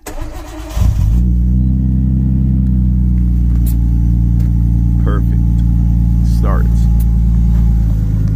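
A Nissan Skyline with air suspension cranks briefly and then fires up, settling into a loud, steady idle close by, with a couple of faint higher squeaks over the running engine.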